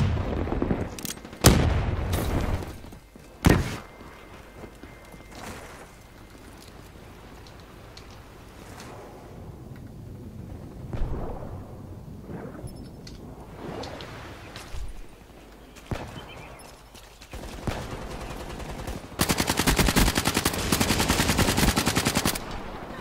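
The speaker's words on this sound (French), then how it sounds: "Vous tirez je sais pas combien de balles sur un mec" Rapid automatic gunfire and single shots rattle in bursts during a Call of Duty: Black Ops 3 beta match on Xbox One, growing into a dense, sustained barrage toward the end.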